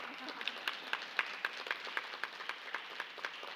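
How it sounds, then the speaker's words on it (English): Conference audience clapping in a large room, a steady patter of scattered claps with sharper peaks, moderately distant, continuing throughout with some voices mixed in. "Y'all keep clapping."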